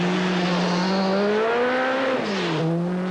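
Timo Salonen's Peugeot rally car at the 1986 Swedish Rally, its engine droning loud and steady with rising and falling pitch as it shifts and revs, no voices.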